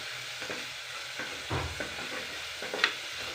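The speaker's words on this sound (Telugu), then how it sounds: "కలర్ మారే వరకు ఫ్రై చేయాలండి" Chicken pieces frying with turmeric and ginger for curry, with a faint sizzle and occasional soft stirring scrapes, fairly quiet and close.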